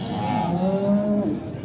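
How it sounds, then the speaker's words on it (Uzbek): A cow lets out one loud, close, drawn-out moo at the Yangiqo'rg'on livestock market, where cows and pregnant heifers are for sale, with no speech over it. "Mana endi gigant sigirlar qatoriga kirib ketamiz."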